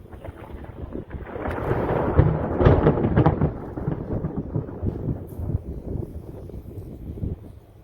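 Deep rolling thunder from a nearby lightning strike swells after a moment and rumbles on for several seconds, loud and low, with wind buffeting the microphone during a storm.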